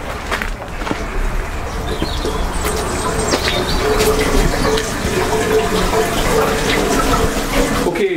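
Water circulates through a vertical NFT hydroponic growing system in a UK greenhouse, fed from a tank through four-inch tubes, giving a continuous close trickling and splashing flow that holds steady throughout.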